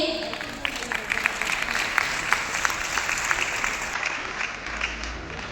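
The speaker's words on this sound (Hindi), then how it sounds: "सो एक जबरदस्त तालियां हमारी मैम के लिए" Audience applause at an indoor talk, steady dense clapping with some sharper individual claps standing out, fairly close and continuous before tapering near the end.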